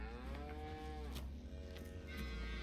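Cattle in the farming video game Farming Simulator 19 give a long, clear moo, close and alone over a low steady hum, with a shorter second call trailing off toward the end.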